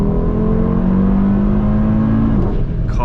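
A 600-horsepower Audi TT RS engine pulls hard under acceleration on a night drive, its steady droning note holding from inside the cabin before easing off near the end, with no talk over it.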